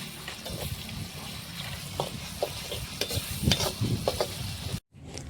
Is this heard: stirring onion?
yes